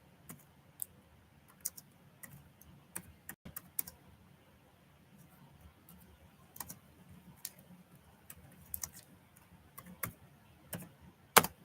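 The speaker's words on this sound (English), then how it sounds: "Let me get it typed in." Typing on a computer keyboard, sparse irregular key clicks close by and fairly quiet, with bursts of faster tapping and pauses between, no voices.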